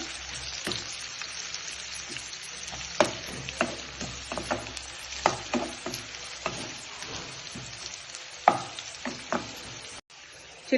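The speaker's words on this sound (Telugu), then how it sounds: "వీటిని కొంచెం ఆయిల్లో ఫ్రై చేయండి." Green chillies and curry leaves fry in hot oil with a busy, crackling sizzle full of sharp pops and spatters, close by and continuous, with occasional stirring scrapes.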